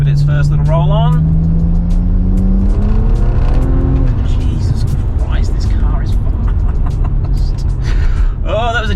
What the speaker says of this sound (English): Oh, that was a gentle roll on in third gear.